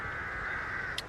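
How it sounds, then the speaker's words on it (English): Crows cawing loudly in the early morning at a winter wild camp, a steady harsh calling that fills the clip, with one brief sharper sound near the end. "the crows, I don't know if you can hear them in the background, but they've been well loud this morning"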